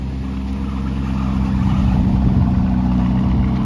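A loud car engine rumbles through Monaco traffic, a close steady low growl swelling slightly over a few seconds.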